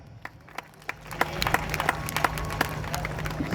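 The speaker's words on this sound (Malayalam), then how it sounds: "ഗാനമേള ട്രൂപ്പിനെ ഏറെ സ്നേഹപൂർവം നമുക്ക് കൈയടിച്ച് സ്വാഗതം ചെയ്യാം" An audience at a ganamela music performance bursts into applause to welcome the troupe, scattered claps swelling into dense, continuous clapping from a crowd.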